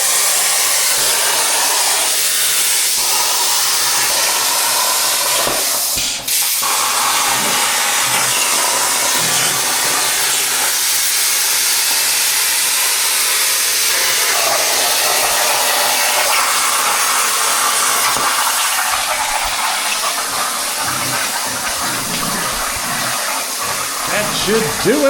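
A machine cuts holes in a speaker box cover, a loud, steady, whining broadband roar that continues almost unbroken up close, with a brief dip partway through.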